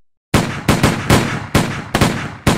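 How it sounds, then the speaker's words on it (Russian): Loud, sharp police gunshots fired in rapid succession, about seven bursts over a couple of seconds, close and echoing, with no talking. "Полицейские произвели 11 выстрелов."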